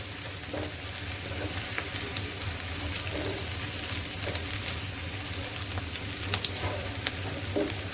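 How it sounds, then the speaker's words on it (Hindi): Green peas and chicken for pulao sizzle and crackle steadily in a hot pan over medium flame, with occasional stirring scrapes and a low background hum throughout. "बस 2 से 3 मिनट इसको मैं भून दूंगी मीडियम फ्लेम पे।"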